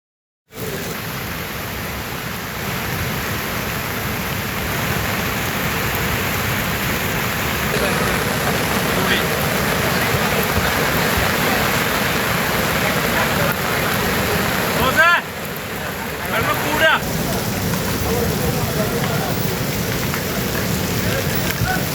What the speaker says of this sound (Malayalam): വയനാട്ടിൽ അതിശക്തമായ മഴ തന്നെയാണ് പെയ്തുകൊണ്ടിരിക്കുന്നത്